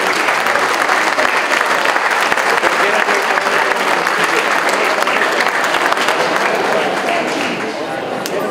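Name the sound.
audience applause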